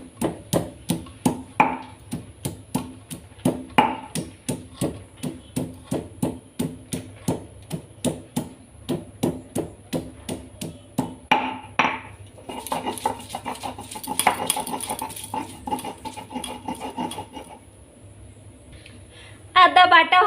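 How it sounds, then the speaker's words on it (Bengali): Ginger being ground into paste on a stone by hand, for a Latha fish curry, makes steady rhythmic scraping thuds in a loud near cycle, then a denser rubbing stretch and a brief pause before a few final strokes. "এখন আমি আদা বেটে নেব।"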